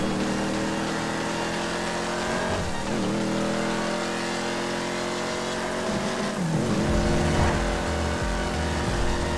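An Imponte Phoenix muscle car in GTA V revs and accelerates steadily, its engine droning loud with pitch sweeps as it shifts gears, with no talking.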